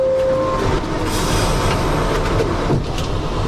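A subway train rumbles loudly as it pulls away. A brief squealing tone sounds early on, and wheel noise continues throughout.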